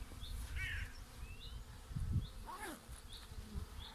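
Honeybees buzz in a low, droning hum close by at a hive, with scattered bird chirps and tweets in the background.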